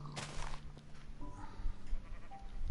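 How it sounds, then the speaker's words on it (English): Sheep in a Minecraft survival world bleat a few times at moderate volume over a busy game background, with no talking. "there's some sheep"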